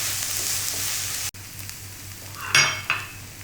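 Grated onions fry in ghee over a medium gas flame, a steady close sizzle interrupted by a short break, then a spoon stirs and scrapes the pan with a louder hiss near the end.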